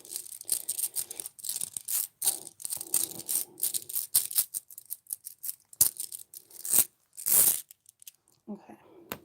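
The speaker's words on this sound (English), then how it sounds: "so I'm just going to shuffle these." Glass runes are shuffled by hand, giving close, crisp clinks and rattling clatters in irregular bursts with short quiet gaps.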